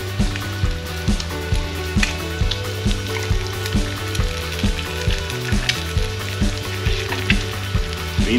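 A fried egg with diced bacon sizzling in a Trangia 27-5UL non-stick pan, loud and close, with a dense continuous sizzle and a regular rhythm of sharp spattering pops.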